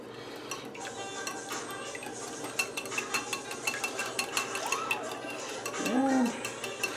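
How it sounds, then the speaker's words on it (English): A whisk beats a mixture in a bowl for a family recipe, a quick run of light, regular ticking clicks against the bowl, close and fairly soft, with a brief voice near the end. "whisk this up nice and good"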